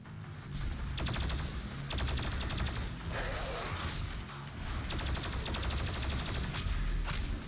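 Rapid rifle gunfire in a video game, dense bursts of shots crackling almost continuously and loud throughout, with mechanical clatter between volleys and no talking.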